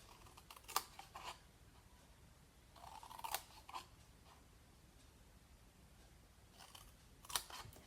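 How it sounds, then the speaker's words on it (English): Scissors cut along the fold lines of a paper box, giving quiet, sparse snips in small clusters of two or three with pauses in between, close and soft. "you need to cut on these fold lines here on the sides, just up to the main big line"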